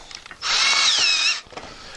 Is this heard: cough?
no